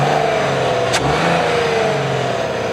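A 2.8-litre VR6 car engine hums at a steady mid-pitched drone, with a slight rising rev and a brief sharp click partway through.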